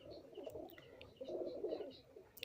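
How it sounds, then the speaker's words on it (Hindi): A Chinese pigeon in a home loft of high-flying pigeons coos softly in two low, rolling phrases, faint and close, with no one speaking. "एक चीनी कबूतर है"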